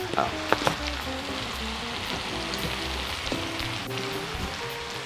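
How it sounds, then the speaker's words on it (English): Powdered vegan bouillon toasting in olive oil in a pan gives a steady, close sizzle with crackling pops, louder bursts near the start. "I'm gonna let it toast in that pan a little bit with some olive oil"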